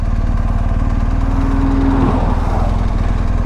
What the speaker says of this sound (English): So idling on this bike is a 1250cc engine.